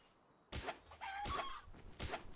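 A chicken in the video game Palworld clucks in three sharp, close bursts spaced under a second apart over a quiet background.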